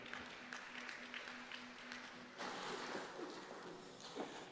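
Audience at a Melbourne Polytechnic graduation ceremony applauding a graduate, a sustained patter of clapping from a crowd in a hall that grows louder partway through.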